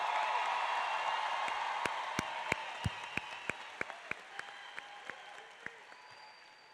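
Graduation crowd applause for a high school class in a large venue, a broad wash of clapping that thins into scattered, distinct individual claps as it fades out.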